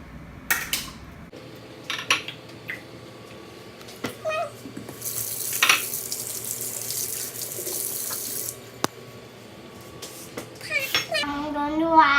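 Water runs from a kitchen tap while a child washes hands at the sink, a steady close splashing hiss lasting several seconds, with small clinks of dishes and a voice around it.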